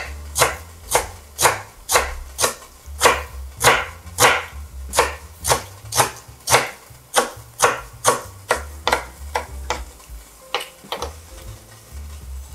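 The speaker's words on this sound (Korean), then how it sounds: "김치 얇게 썰어주세요." A knife slices kimchi thinly on a cutting board, about twenty sharp, evenly spaced chops close by, slowing slightly and trailing off near the end, with no talking.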